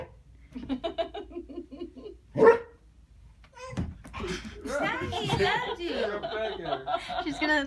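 People imitate dog barking with their voices, short bursts of woof-like sounds mixed with chuckles and laughter, followed by more busy talking and playful vocal noises close to the microphone.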